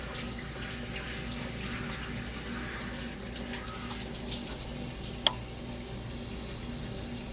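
A kitchen tap runs steadily while something is rinsed as noodles wait to boil. It gives a soft, continuous, fairly faint water stream, broken by one sharp click near the end.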